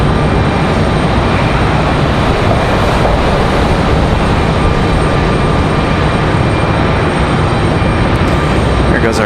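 A JetBlue Airbus A220 jet at Raleigh-Durham International Airport gives a steady, loud broadband engine roar that holds evenly throughout, with a faint murmur of talk beneath it.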